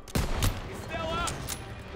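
Gunfire crackles in the Call of Duty WWII video game, with a sharp close shot followed by scattered further bursts over a short stretch, and a voice talks over the fighting.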